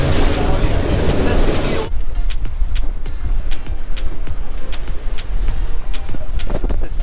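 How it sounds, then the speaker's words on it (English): Rough offshore seas off Islamorada: strong wind roars against the microphone and waves slap the fishing boat, with a burst of heavy gust noise at first, then steady choppy splashing and knocks. "It's nice and rough today. Some big waves out here."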